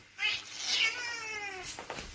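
A cat meows repeatedly in a drawn-out, wavering cry close by, its voice sliding down in pitch before a short softer mew at the end.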